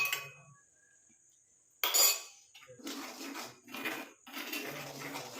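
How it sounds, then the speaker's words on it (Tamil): A spoon clinking and scraping against a bowl while indigo powder hair dye is mixed, arriving in several bursts of metallic stirring separated by short pauses, close and fairly clear. "நல்லா கலந்து விட்டுருங்க கட்டிகள் இருக்கக்கூடாது"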